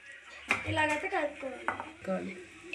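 Metal utensils scrape and clink against a pot of fish curry with tamarind juice in a steady stirring motion, close by, with no talking.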